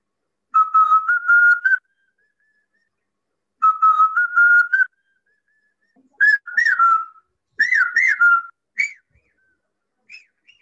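A person whistles an imitation of the Pavasha bird's call, a clear rising melodic phrase repeated twice and then broken into shorter, higher trilled notes, loud and close with short silent gaps and no talking.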